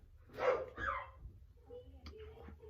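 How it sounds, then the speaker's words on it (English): A dog barks twice, close and sharp, followed by softer whimpering yips and faint background sounds in a quiet room, with no clear speech. "Whose dog is that?"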